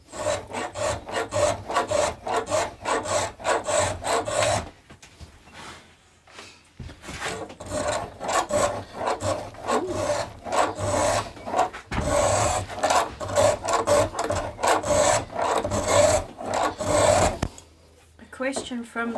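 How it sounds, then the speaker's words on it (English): Saw rasp filing wood during a guitar build, rhythmic close rasping strokes in long runs with a couple of short pauses between bursts. "this is why I tend to prefer using the saw rasp"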